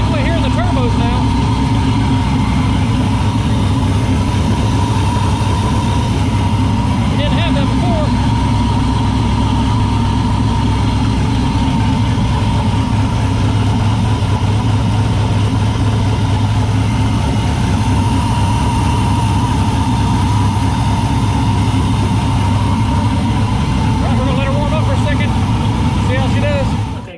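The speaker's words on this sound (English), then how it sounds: "Definitely hearing the turbos now." A turbocharged LS engine runs during a first drive, a loud continuous low rumble with faint turbo whistle and spooling above it, steady throughout with little change in pitch.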